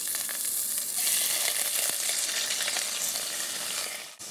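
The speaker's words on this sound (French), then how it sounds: "Je mets donc à revenir mes carcasses" Squab carcasses brown in olive oil in a pan, giving a loud, steady close sizzle and crackle with light stirring, cut off abruptly near the end.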